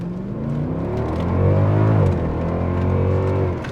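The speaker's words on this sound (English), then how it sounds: "so what you are hearing is the stock exhaust sound" A Mercedes-Benz W219 CLS63 AMG V8 with stock exhaust roars steadily and close, accelerating from a stoplight, its exhaust note climbing in pitch, then holding and easing off near the end.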